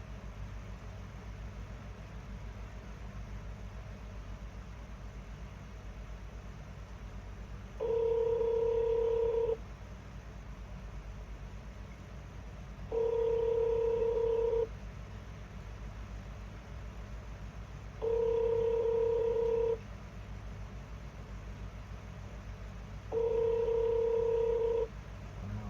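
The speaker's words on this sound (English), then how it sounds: "Wait while I transfer your call." Telephone line tones during a call transfer: four identical steady ringing bursts, each lasting about two seconds, repeat at even intervals over a low, constant hum, with no talking.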